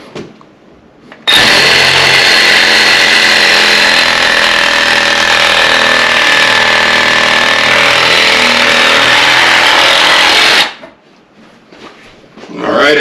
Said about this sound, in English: this is a stainless steel meat saw.